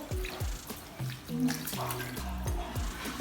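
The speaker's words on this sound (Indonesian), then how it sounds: "Kemudian basahi tangan dengan air mengalir." Tap water runs and splashes over hands, close and continuous, with irregular splatters and tonal music playing underneath.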